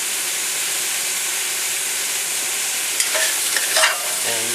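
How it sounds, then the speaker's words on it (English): Sausage fries in a pot for jambalaya, a constant loud sizzle and hiss with a few scraping stirs and clinks toward the end. "you got to kind of work on stirring the sausage up"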